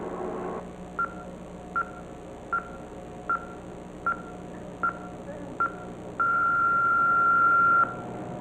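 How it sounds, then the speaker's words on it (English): A telephone answering machine from a 1992 television special gives a series of short, evenly spaced beeps, about eight, then one long sustained tone. No voices are heard. "At the sound of the beep, please leave your name and number,"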